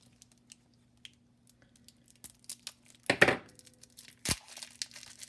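Washi tape packaging is torn open, with faint scattered crinkles building to two loud, sharp rips of plastic up close.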